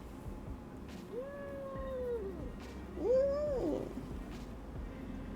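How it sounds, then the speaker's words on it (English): A house cat gives two drawn-out, whiny meows about two seconds apart, fairly faint and close by in a quiet indoor room. "Kitty cat can be heard."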